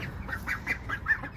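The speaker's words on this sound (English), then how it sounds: "the ducks are being very vocal" Several ducks quack near a home garden, a handful of short nasal calls overlapping in quick irregular bursts, fairly close and clear over a quiet outdoor background.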